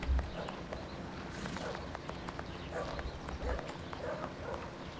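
Horse hooves clip-clop in a steady walking rhythm in a Sherlock Holmes vs Jack the Ripper game scene, moderately loud against a low background bed with no talk.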